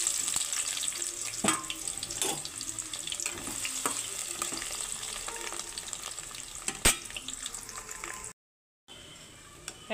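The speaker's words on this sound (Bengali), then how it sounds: "তারপরে দিয়ে দিচ্ছি পেঁয়াজ কুচি" Chopped onion frying in hot oil with bay leaves in a home kitchen, a continuous bright sizzle with scraping stir strokes and clinks, briefly cutting out near the end before resuming.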